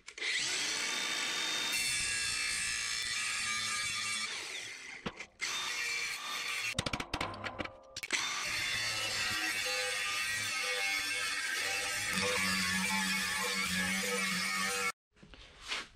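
Power tool cutting pieces off a steel part of a Toro trencher being converted into a snow plow, a loud sustained grinding whine with brief pauses and a short dropout near the end, no talk.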